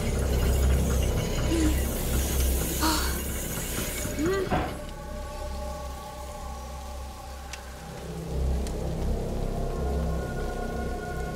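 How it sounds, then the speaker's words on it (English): Steady heavy rain pours through a thunderstorm in the video game A Plague Tale: Innocence, with a thunder crack near the middle and occasional voices speaking beneath the downpour. "Don't worry, the storm will drown out our voices"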